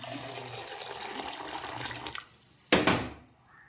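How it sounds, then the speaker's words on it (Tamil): Water pours steadily into a cooking pot holding cumin, pepper powder and garlic for banana stem soup, a loud, continuous rushing splash that stops, followed by one short, sharp clatter near the end. "இதில் ஒரு 2 டம்ளர் தண்ணி ஊற்றிக்கோங்க."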